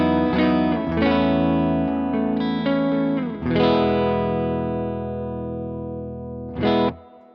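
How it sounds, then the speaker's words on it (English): An electric guitar on its neck pickup runs through a Donner Dumbal Drive pedal, strumming sustained chords that ring and decay, loud and close, ending with a final struck chord. "Here it is, clean sound neck pickup."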